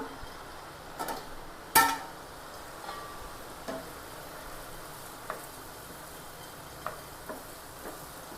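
Prawns and carrot stir-frying over a low flame, with a soft steady sizzle and occasional spoon taps and scrapes against the pan, one sharper clack near the start, quiet and close.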